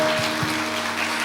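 A church congregation claps in praise during a worship service, producing a steady, moderately loud wash of many hands for just over a second, with a low electronic hum underneath.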